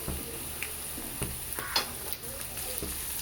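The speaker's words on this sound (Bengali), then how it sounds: "প্রথমেই আমি এতে দিয়ে দেব আলুটা, যে পাতলা পাতলা করে আলুটা আমি কেটে রেখেছিলাম সেই আলুগুলোকে আমি এর মধ্যে দিয়ে দেব।" Thinly sliced potatoes go into a pan of small morola fish frying in oil, giving a soft steady sizzle broken by a few scraping and clattering stirs close by.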